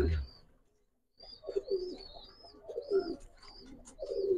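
Budapest pigeons cooing at a pigeon farm, soft throaty coos rising and falling in close succession over a few seconds, nearby, with faint chirps from other birds in the background.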